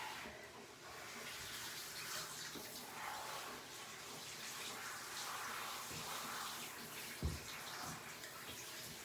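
Garden hose running steadily while a yellow Labrador is bathed, a continuous close rush of spraying water with one small knock near the end.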